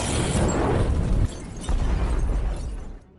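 A drug-production warehouse blows up in a film scene after an electrical short, a loud, sustained explosive roar with crackling debris that dips briefly, surges again, then fades out.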